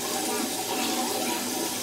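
Cold tap water runs steadily into a sink as someone washes their face, a continuous close splashing hiss with no pauses.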